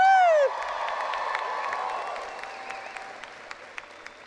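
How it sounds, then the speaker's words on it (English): A college commencement crowd at Albright College cheers and applauds; a single loud whoop opens, then steady clapping and distant cheering fill a large venue, with occasional sharper claps standing out. "Can I get a cheer from you guys?"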